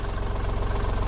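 Tractor engine running on a snowy farm, a steady close low rumble with a regular pulsing throb, heard alone.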